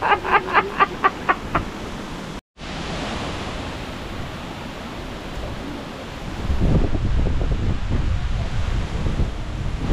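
Strong wind blowing hard outdoors, roaring and buffeting the microphone in a continuous broadband rush that swells louder and rougher in the second half, with a few faint taps at the start and a brief dropout.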